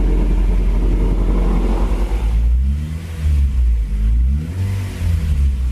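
A freshly swapped Honda B18C Type R engine in a 2000 Civic Si idles at low RPM during break-in on a lift, a steady close mechanical hum and rumble that dips slightly midway and then carries on evenly.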